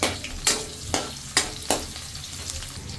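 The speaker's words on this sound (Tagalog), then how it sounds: "Mainit na yung ating kawali na may mantika. Lagay natin bawang, sibuyas." Garlic and onion sautéing in hot oil in a wok, a loud close sizzle punctuated by four or five sharp spatula scrapes in a loose stirring rhythm.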